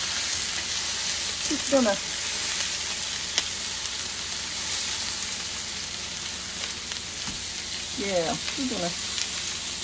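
A low-carb hamburger patty fries in a pan with a steady, even sizzle and faint crackle throughout, while a voice speaks briefly a couple of times over the cooking.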